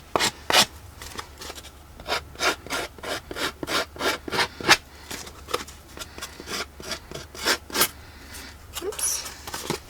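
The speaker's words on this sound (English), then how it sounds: "we're going to do the scissor scuff sides on this" Scissor blades scraping along the edges of paper for ephemera crafting, a series of quick rasping scuffs in an uneven rhythm, close and fairly loud.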